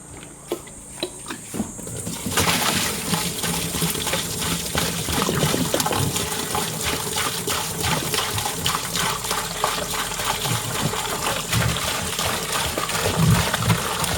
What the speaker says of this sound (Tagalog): So ngayon maglalagay na tayong tubig.